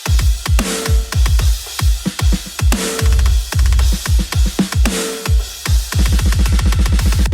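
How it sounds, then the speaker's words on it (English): A low-tuned, very dry snare drum sample with a short, choked decay, struck repeatedly in a steady rhythmic pattern, loud and close with no voices. "prepped a snare. It's a bit more low tuned, a lot drier"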